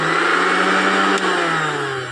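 A mixer grinder motor runs under repair, a loud steady electric whine with a strong low hum, continuous and close, easing slightly near the end.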